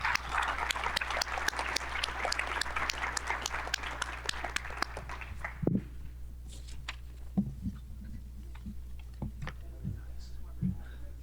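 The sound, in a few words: audience applause for conference panel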